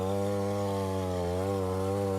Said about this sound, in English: we are cutting a pumpkin the right way with a chainsaw